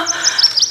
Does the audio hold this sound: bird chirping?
yes